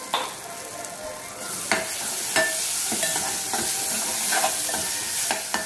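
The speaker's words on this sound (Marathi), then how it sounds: "आता आपला मसाला चांगला भाजून झालेला आहे" Garam masala roasting in a hot pan for a spicy prawn curry (kolambi rassa), giving a steady close sizzle broken by regular scraping stirring strokes, with no talking.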